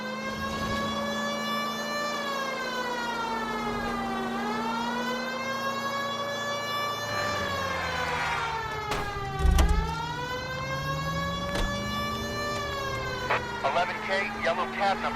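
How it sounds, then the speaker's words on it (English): A police car siren in the video game L.A. Noire wails continuously and loudly, sweeping up and down in long cycles, with engine rumble and occasional voices underneath. "If you use the siren, maybe those metal things in front of you called cars will know you're in a hurry."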